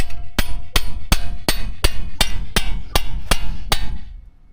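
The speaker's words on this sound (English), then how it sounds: "give it a quick little whack" A hammer strikes a part about ten times in a steady, loud rhythm while a 3-inch front leveling kit is installed on a 2014–2019 GM Silverado, each blow a sharp metallic whack with a short ring.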